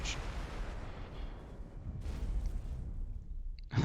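Turrets fire on the player's ship in the space game X4, a dense rumbling barrage of low booming impacts and blasts, with a couple of sharper hits near the start and end.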